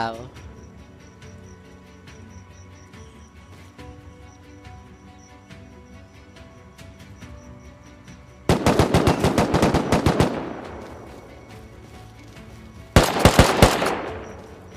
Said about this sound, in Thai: โดนละเบิดไปหนึ่งดอก แลนด์มายเยอะจริงๆนะครับสำหรับบ้านนี้